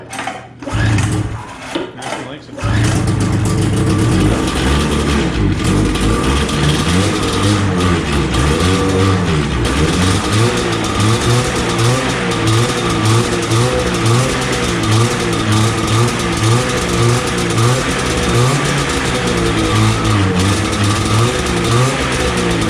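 A rebuilt Exciter 340 snowmobile engine catches after a few sputtering cranks, then runs loud and close with a rough, pulsing rev that rises and falls steadily.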